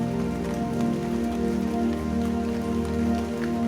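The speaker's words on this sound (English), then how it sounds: "The descending quality of rain as it showers down on your head" Steady rain showers down onto a surface, a dense continuous patter that stays even and close throughout with no voices.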